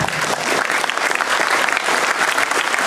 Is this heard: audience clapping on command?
yes